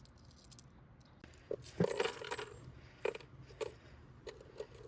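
Coins clink and rattle as they are handed over at a shop counter in Japan, several small metallic drops and jingles in a quick irregular cluster, close and clear with little background.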